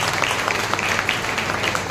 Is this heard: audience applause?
yes